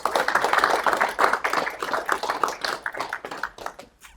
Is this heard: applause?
yes